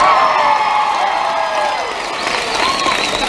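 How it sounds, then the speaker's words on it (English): A convention audience at a James and Oliver Phelps panel at Rose City Comic Con 2017 bursts into loud, sustained cheering and applause with whoops, filling the room throughout. "Bigger cheer than you got."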